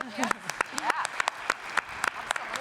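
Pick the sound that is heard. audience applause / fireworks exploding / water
audience applause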